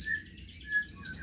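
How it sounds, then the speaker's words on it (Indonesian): Birds chirp in an aviary housing magpie robins and prinias, giving thin high whistled notes and short chirps against a faint background hum. The calls are soft and at a moderate distance, with no voices. "sebelumnya di kandang ini bukan hanya murai batu, tapi ada ciblek dan burung lainnya ya."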